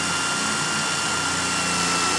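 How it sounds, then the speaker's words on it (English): A power drill bores a pilot hole with a regular bit through a two-layer metal box, a loud steady whirring grind that runs unbroken throughout, no voices. "I'm going to start by drilling a pilot hole here"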